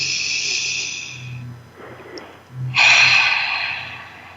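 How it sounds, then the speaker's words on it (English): A group breathes together: a long, breathy inhale is followed by a softer pause and then a strong, rushing exhale, with no talking. "Let's take a breath together."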